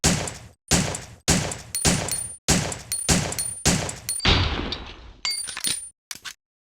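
Handgun D in the video game Resident Evil Survivor firing a slow string of about nine loud, sharp shots at a steady, evenly spaced pace, each followed by a short ringing decay, with a brief click at the end.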